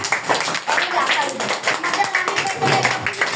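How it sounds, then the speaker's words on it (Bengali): A room of people claps loudly to congratulate a prize winner. The applause is dense and continuous for the whole stretch, with voices mixed in. "সবাই জোরে একটা হাততালি"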